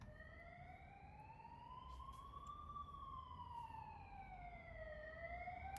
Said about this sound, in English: I can't tell if that was a police car or an ambulance